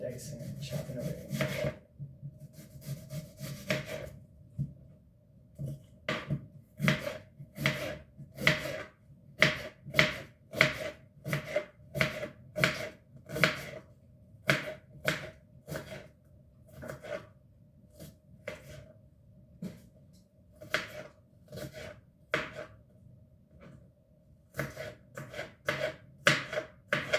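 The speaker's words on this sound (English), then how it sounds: "And then just start dicing and chopping away." Knife dicing and chopping an onion on a board, a long series of sharp, close, fairly rhythmic taps and cuts, some quick runs and pauses between.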